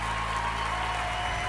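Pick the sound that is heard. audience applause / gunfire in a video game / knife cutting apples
audience applause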